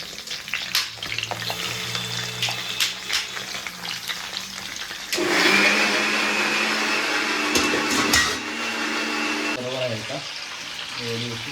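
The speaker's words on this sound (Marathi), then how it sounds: "थोडंसं अजून मिक्सर लाव परत" A mixer grinder whirs into a steady roar for about four seconds, blending a watery masala paste for Malvani crab masala. Kitchen clatter and voices surround it, and people talk before and after.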